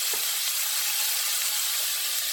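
Vegetables with green chillies fry on a high flame, giving a steady, loud, even sizzle that fills the whole moment without voices.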